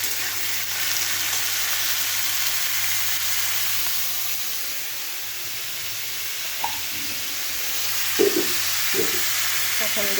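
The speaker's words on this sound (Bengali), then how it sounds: "এখন আমি সবজিগুলো দিয়ে দিচ্ছি। এখানে মূলো আর আলু" Radish and potato pieces fry in hot oil in a pan at home, giving a steady, even sizzling hiss throughout with a few soft clinks and stirring knocks near the end.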